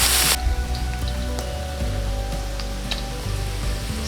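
Garlic dropped into a pan of browning, softened onions while cooking ox liver crackles and sizzles steadily, with a loud burst of spitting at the start that settles into an even frying hiss.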